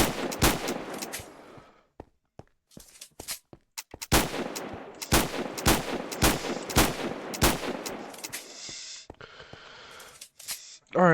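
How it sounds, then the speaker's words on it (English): Revolver shots from a Minecraft gun mod fire as a series of sharp, loud cracks, with several spaced shots and then a quicker cluster, each followed by a short echoing tail. "This revolver."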